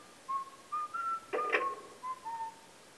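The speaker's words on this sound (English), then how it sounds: "Luigi's whistling while opening the door." Luigi whistles a bright, wavering tune in the Luigi's Mansion video game while a door opens with a short creak and thump partway through. The whistle is clear and close over quiet room tone.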